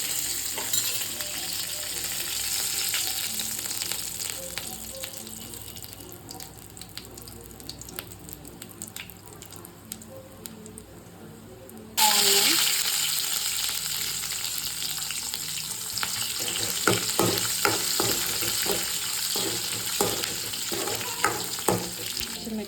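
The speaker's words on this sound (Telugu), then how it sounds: "రెండు ఎండుమిర్చి బాగా వేగిన తర్వాత ఇది కొంచెం బ్లాక్ అయ్యేలాగా తీసుకోండి" Two dried red chillies frying in hot oil with mustard seeds and cumin for a drumstick dal tempering, a continuous hissing sizzle that jumps abruptly louder midway and stays dense, with scattered crackles and pops.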